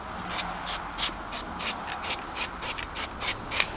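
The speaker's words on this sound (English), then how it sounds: "It's a high temp copper paste, and we can just lightly spray this in and around here." Würth CU800 high-temperature copper paste is sprayed onto a drum brake assembly in short repeated hissing bursts, about a dozen quick faint sprays in an even rhythm, with no talking.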